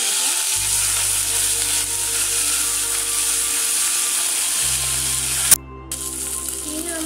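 Ginger garlic paste stirred in a frying pan with fenugreek seeds, a steady close sizzle running throughout with a low background hum and a brief sharp knock near the end, no talking.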